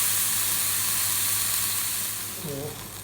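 Pepper steak sizzles in a hot pan, a steady close frying hiss that eases slightly toward the end, with a faint tonal squeak near the finish.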